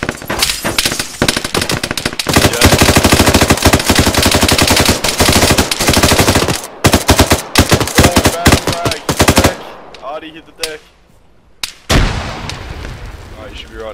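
Heavy automatic gunfire and artillery-like bursts in the Arma 3 video game, loud and sustained for most of the span, then dropping away to quieter scattered shots with brief voice chatter near the end.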